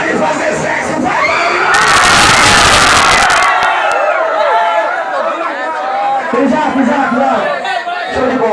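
A packed party crowd roars and shouts together on cue, a loud burst of whooping and screaming that swells and then fades into general chatter and calls.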